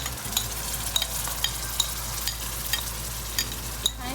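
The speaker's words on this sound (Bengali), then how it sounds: "ঢেলে দিয়ে একটু নাড়াচাড়া করছি, তেলগুলো উপরে ভেসে আসবে।" A spice mix stirred into hot oil for a desi chicken curry, a constant close sizzle under a low hum, with regular soft scrapes and taps of the spoon roughly every half second.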